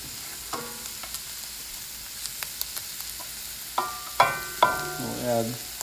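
Rice tipped into a frying pan for shrimp and Chinese sausage fried rice gives a quiet, scattered patter and light scraping, then grows into louder sizzling bursts toward the end.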